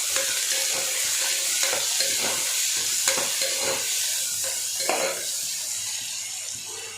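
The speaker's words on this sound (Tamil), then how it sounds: "இப்போ கட் பண்ண ஆனியன் போட்டு வதக்கணும்." Chopped onions sautéing in a pan for palak biryani, a continuous close sizzle broken by repeated scraping and stirring strokes, fading slightly toward the end.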